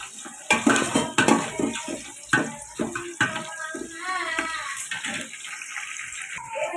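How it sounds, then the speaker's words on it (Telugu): Onions and green chilies fry in a pan, giving a close, hissing sizzle broken by clattering scrapes of stirring, with faint talk at times. "ఉల్లిపాయలు ఎలా ఫ్రై అవుతున్నాయి కదండి పచ్చిమిర్చి వేసుకున్నా బాగా కలుపుకొని ఫ్రై చేసుకోండి"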